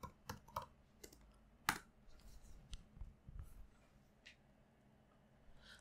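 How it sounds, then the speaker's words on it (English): Keystrokes on a computer keyboard while entering a query command in a terminal, a quiet, uneven run of close clicks with a few sharper taps and short pauses. "I open the terminal and I type query"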